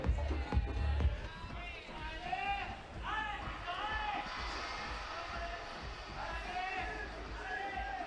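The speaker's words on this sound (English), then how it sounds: "Lots of shouts of allez from the French crowd here." Shouting French crowd at an ice climbing lead final in Bern, Switzerland, a steady murmur of voices with scattered calls rising above it, loudest at the start, then a continuous babble throughout.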